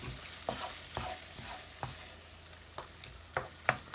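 Chicken and rice in a curry cream sauce are stirred in a hot pan, with a utensil scraping in a repeated rhythm of short strokes over a soft sizzle. The sound is close and moderately quiet.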